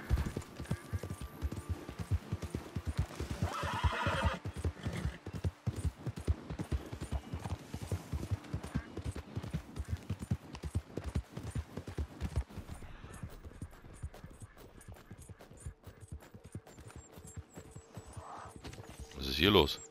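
Steady clip-clop of hooves at a walking pace runs throughout, with a brief whinny partway through, set against game-like background sounds in Red Dead Redemption 2 Online.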